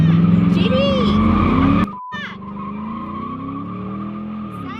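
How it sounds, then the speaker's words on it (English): Ford Mustang GT tires squeal in a loud burnout, with engine roar and a sweeping squeal for about two seconds, then a sharp cut and a quieter tire and engine tone under the road noise. Voices are audible over it. "before you get new tires, you gotta burn the old ones"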